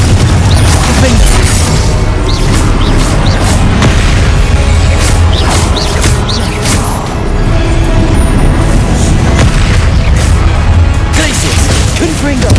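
Glacius and Confringo spell blasts in the Hogwarts Legacy video game, heard as a dense, continuous run of loud booming impacts and crackling bursts with no pause, mixed with game clamour and what may be voices.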